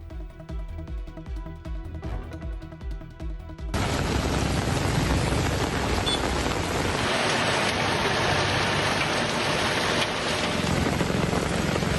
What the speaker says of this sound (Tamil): ராணிப்பேட்டை மாவட்டத்தில் திடீரென கனமழை வெளுத்து வாங்கியது.